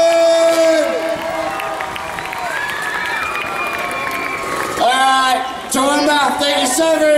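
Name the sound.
crowd applauding and cheering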